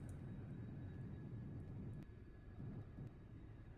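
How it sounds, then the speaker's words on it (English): Airplane taking off in a flight simulator game, a steady loud engine roar with low rumble holding throughout, alone with no talk. "Alright, nice takeoff."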